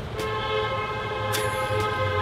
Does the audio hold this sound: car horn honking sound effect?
yes